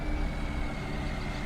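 A Fendt Trisix vehicle in Farming Simulator 19 drives while crab steering to the left. It makes a steady, loud engine drone with a constant high whine and no voices.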